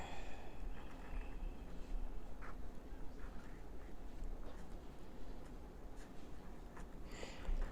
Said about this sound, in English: So let me just write a word here.